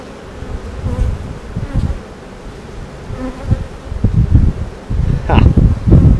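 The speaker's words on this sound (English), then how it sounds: "the amount of bees out in the field, it's a pretty good amount" Honey bees buzz close by around their hive, their drone rising and falling as they fly past, with rustling and soft wind-like noise around them.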